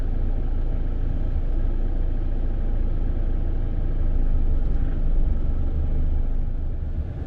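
A car drives through congested road traffic near Vibhavadi Road in Bangkok. A steady, close engine and road rumble runs the whole time with no pauses.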